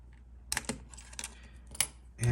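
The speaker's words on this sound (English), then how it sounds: "you can turn the rewind knob counterclockwise to loosen the rewind knob." Rewind knob on a Yashica Electro 35 GSN camera turned counterclockwise to loosen it, giving a few close, light metallic clicks and ticks spaced irregularly, with a louder handling bump at the end.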